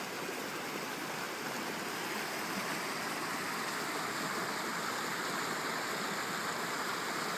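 Water rushing down a quarter-to-half-mile run of river cascades diverted beside a dam, a steady, loud, broadband roar that holds constant throughout with no voices.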